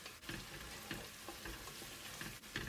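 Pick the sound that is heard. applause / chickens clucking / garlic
garlic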